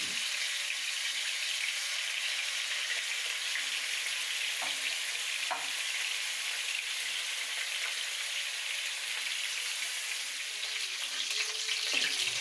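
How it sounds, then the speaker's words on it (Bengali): Chicken pieces frying in hot oil for a chicken biryani give a loud, continuous, close sizzle and crackle with a few faint knocks, and no voices are heard. "চিকেনটা এখন ভালোভাবে ভেজে নেব।"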